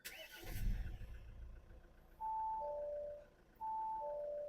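An Audi A4 engine cranks briefly and catches, followed by steady electronic warning chimes in a repeating two-tone pattern as the ignition cycles, heard close and fairly quiet.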